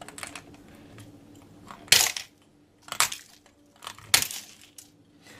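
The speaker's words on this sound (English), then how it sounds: "I got my handy dandy pruning shears here. And sometimes I'd like to just trim this." Pruning shears snipping through wire during an orthodontic teeth-resetting demonstration, four sharp, loud crunching cuts spaced about a second apart with quiet gaps between.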